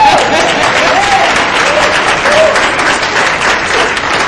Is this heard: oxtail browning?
no